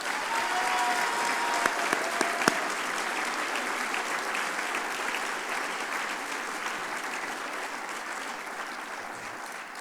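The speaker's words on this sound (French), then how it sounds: "Je pense qu'on peut les applaudir aussi." A large conference audience gives sustained applause, a thick, steady roar of many hands clapping that holds evenly throughout, with a few sharper nearby claps early on.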